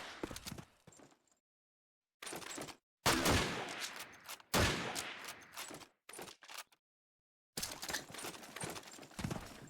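Bursts of rifle and gunfire from Call of Duty 2 in a competitive match, including an M1 rifle near a church, arriving in clusters of sharp shots separated by short silent gaps.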